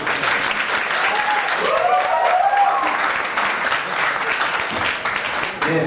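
An audience at a startup weekend pitch final applauds after a team finishes its presentation, loud sustained clapping filling the room while a voice talks briefly underneath.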